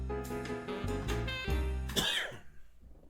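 A single close cough, harsh and throaty, with a short raspy tail fading into quiet.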